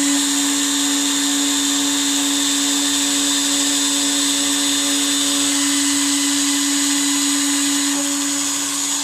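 A micRo CNC router etches plexiglass with a steady high-pitched spindle whine and a bright machining buzz, holding close and loud without a break; no one speaks.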